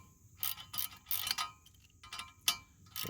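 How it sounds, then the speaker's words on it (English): A socket wrench ratchets in short bursts as a bolt is tightened on a Kubota HST filter guard install: several quick clicking runs with brief pauses, one sharp metallic clack, close and fairly quiet. "got my socket, my wrench, so we're going to go ahead and tighten this up"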